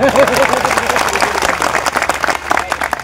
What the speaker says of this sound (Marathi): साहेबांच्या नावाने टाळ्या वाजल्या